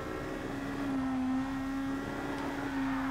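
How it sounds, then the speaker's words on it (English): A Super GT race car engine in Gran Turismo Sport holds a loud, steady high-pitched rev, droning continuously with slight dips in pitch as the throttle is held. "Well, this car is loud. Yeah, this sound is mad."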